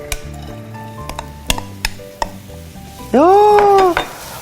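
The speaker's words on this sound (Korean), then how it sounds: "자, 먼저 식용유를 좀 둘러주시고요. 자, 여기에 먼저 대파를 먼저 볶을 거예요." Chopped green onions hitting hot cooking oil in a pan, a sudden loud sizzle that bursts up after a few seconds of quieter kitchen clatter and stirring, with a brief spoken word.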